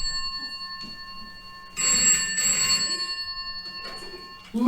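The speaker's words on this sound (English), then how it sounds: "Answer the telephone." An old telephone bell rings in a 1950s-style diner setting, a steady metallic trill that swells louder for about a second and a half, with faint voices around it.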